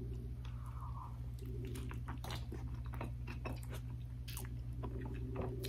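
A fire roasted vegetable taco sprinkled with sea salt being bitten and chewed up close, with soft crunches and moist squishy chewing over a steady low background hum.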